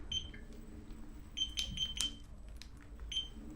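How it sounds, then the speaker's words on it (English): Several short, high electronic beeps, some in quick pairs, sound from a Ninebot by Segway miniPRO self-balancing scooter over a low background hum. "I have no idea what those beeps mean right now."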